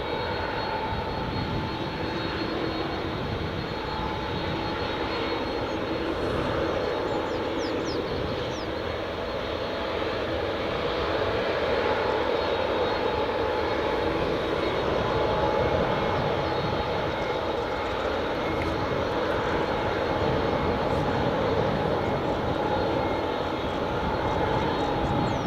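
A Qatar Airways Boeing 787 Dreamliner jet on runway 24 at Edinburgh Airport makes a continuous, fairly loud engine roar that holds steady for the whole stretch, with no talk over it.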